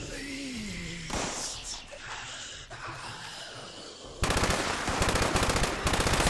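An explosive gun in a video game fires in rapid bursts: first scattered blasts and a sliding tone, then a loud, fast, evenly pulsed stream of shots near the end.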